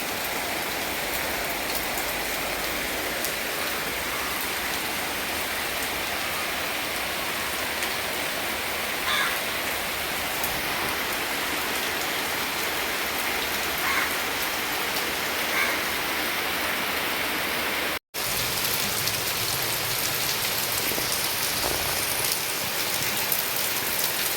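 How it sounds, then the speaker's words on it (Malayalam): Heavy rain pouring steadily outdoors in Thiruvananthapuram, a dense unbroken roar of drops on surfaces, with a brief dropout near the end. "നല്ല മഴ പെയ്യുന്നുണ്ട് ഇവിടെ പുറത്ത്"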